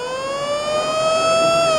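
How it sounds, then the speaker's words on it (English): A loud, sustained wailing warning siren at Flemington racecourse during the Melbourne Cup, its tone slowly rising in pitch as it holds steady throughout. "there is a warning siren"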